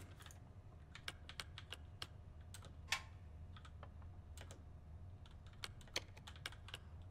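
Keypad typing in the Resident Evil 2 Remake video game, on a machine missing a few keys: a run of quick, irregular key clicks, some louder than others, spread across the whole stretch over a low steady background hum with no talk.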